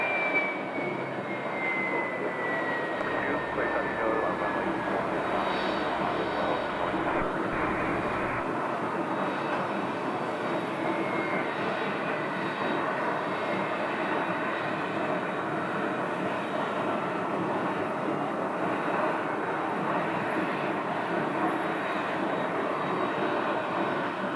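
A FlexJet business jet moves at Scottsdale airport, giving a continuous loud roaring jet-engine rush with a faint rising whine at times. The roar holds steady throughout and no voices are heard.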